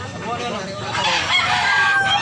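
A rooster among bullstag gamefowl lets out a crow at close range, with other birds calling faintly around it.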